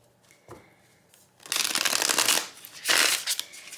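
A Rainshadow Tarot card deck riffle-shuffled by hand: a soft handling tap, then two crisp, close flurries of cards riffling and bridging back together, with a short pause between them.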